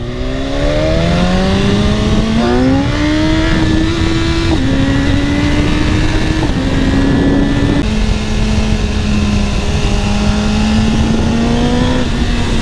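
A BMW S1000RR sport motorcycle riding along, its engine a loud, close, continuous drone that climbs in pitch and steps through several gear changes at a relaxed pace, with steady wind noise underneath and no talking.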